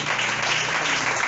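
A church congregation claps during a Spanish-language worship service, giving a steady, dense wash of applause that stays even and fairly loud throughout the brief moment.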